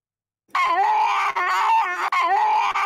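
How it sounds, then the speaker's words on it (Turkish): A person screams loudly and close, a sustained wavering shriek broken by a few brief pauses, after a short silence. "Ama bu nasıl bir çığlık ya?"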